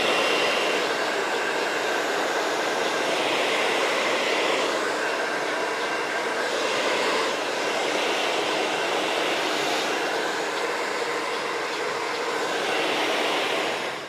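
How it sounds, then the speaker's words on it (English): A hair dryer blows steadily while drying hair in a salon styling session, a continuous airy roar that swells and dips slightly as it moves around the head, with no talking. "I'm going to blow dry your parting in and then we'll see what it's all doing"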